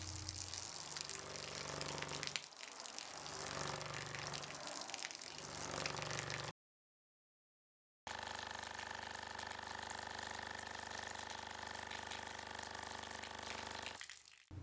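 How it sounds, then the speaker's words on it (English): Water sits beside a loudspeaker playing steady tones, giving a sustained humming drone over a churning, watery wash, with a brief silent gap partway through. "Take a look at what happens to water when placed next to a speaker and different frequencies are played."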